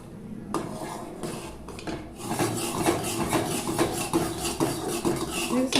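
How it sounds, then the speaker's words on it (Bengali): A spoon stirring milk boiling in a pot for carrot halwa, with repeated close scraping and rubbing strokes against the metal, plus occasional clinks, continuous and fairly loud. "আমি 5 থেকে 6 মিনিটের মতন দুধটাকে কিন্তু বেশ একটু এভাবে নেড়ে চেড়ে জ্বালিয়ে নিব"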